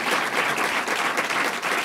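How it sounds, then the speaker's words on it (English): A crowd at a public event breaks into a round of applause, dense and continuous, filling the room at steady volume for about two seconds. "If we could give them a round of applause"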